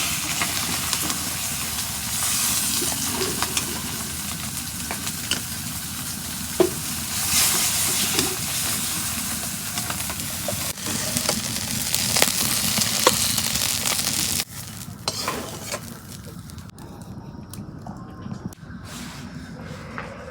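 Fish fries in oil with a loud, steady close sizzle and bubbling that drops abruptly to a quieter hiss near the end, with a few clinks along the way.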